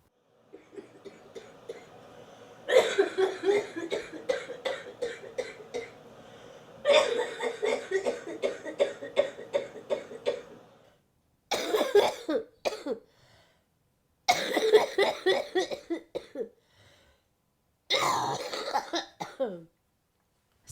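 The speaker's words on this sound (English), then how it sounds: "Sometimes it's unbearable to watch her cough." Repeated fits of harsh coughing come in bursts separated by short silences, each fit a rapid series of coughs, close and fairly loud.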